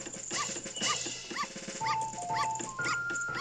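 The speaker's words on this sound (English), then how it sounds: "Let's come right over here to our least favorite dog, put on the Bremen's mask, and march" Barking and yipping from a dog in the video game Zelda: Majora's Mask 3D, a run of short, bright repeated yelps with game music tones underneath, fairly loud and close.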